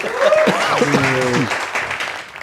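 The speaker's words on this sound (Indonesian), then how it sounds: "Kasih tepuk tangan dulu, tepuk tangan dulu, tepuk tangan dulu." Audience applause at a workplace safety culture talk, a brief burst of clapping that swells and then tapers off, with a voice speaking over it at the start.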